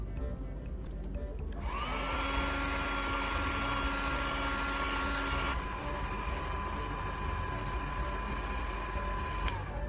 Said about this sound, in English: I place a wooden block over one half of the plastic while using a heat gun to heat the exposed side